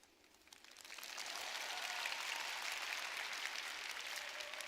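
An audience at a spring convention bursts into applause that swells within the first second into steady, dense clapping filling the hall, continuing without speech.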